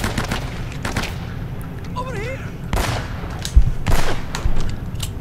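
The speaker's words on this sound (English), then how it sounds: "Thank goodness for the power of this shotgun." Shotgun blasts in the video game Uncharted: Drake's Fortune, a few sharp booming shots amid game noise and ambient combat sounds.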